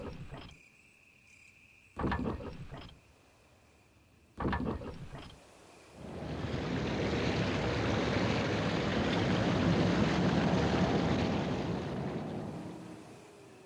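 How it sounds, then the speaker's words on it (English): Waterfall in a Resident Evil game, a steady broad rushing roar that swells in after two brief knocking sounds and holds loud and continuous to the end. "The sound of the waterfall seems to have stopped."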